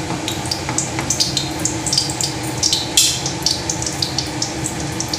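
Oil stirred and sizzling in a pan for a Bengali bread pulao, a steady crackling fry with scraping stir strokes and brief bursts on top, close and continuous, with no talk.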